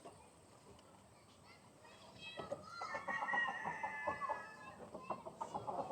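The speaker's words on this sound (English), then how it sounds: "that sound of that rooster crowing" A rooster crows partway through, drawn out and moderately loud, amid clucking hens and a quiet outdoor background at an orchard farm in Cambridge, Iowa.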